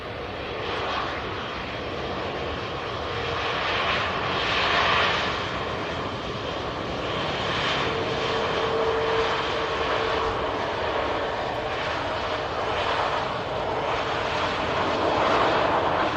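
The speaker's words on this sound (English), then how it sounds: "Tap Air Portugal. Just arriving in." A TAP Air Portugal airliner arriving at Manchester Airport, its jet engines a loud, sustained roar that swells and eases slightly over a long stretch without talk.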